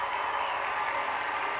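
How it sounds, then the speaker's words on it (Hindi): Studio audience applauding on a morning TV show, a brief, even wash of clapping at moderate level with no voices over it. "इतनी सारी तालियां भाई"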